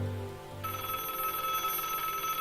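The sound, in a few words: telephone ringing in the video game Broken Sword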